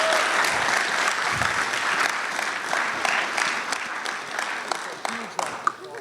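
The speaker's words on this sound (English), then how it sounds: "That was a nice round of applause." A live-show audience claps for a guest, a steady, full round of applause from a crowd that carries through the whole stretch with a few sharper individual claps near the end.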